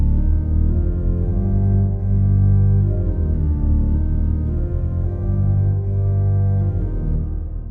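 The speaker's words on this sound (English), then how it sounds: "the organ begins a repeated 7-beat long figure in the bass, played by the pedals, which sounds like this" Pipe organ in a lecture recital, its pedals playing a repeated seven-beat bass figure. The sound is loud, sustained and full, with low pedal tones under denser harmony and no talking.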